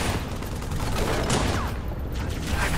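Rapid gunfire from Halo 3 on Legendary difficulty crackles in loud, continuous overlapping bursts for the whole stretch.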